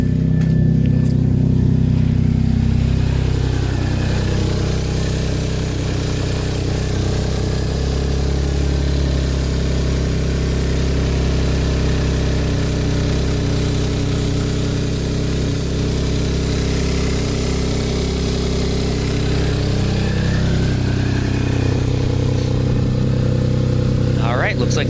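Audi A6 engine idling loudly with a bad exhaust leak after a high-pressure fuel pump installation, a steady close-up rumbling drone throughout with a voice talking over it.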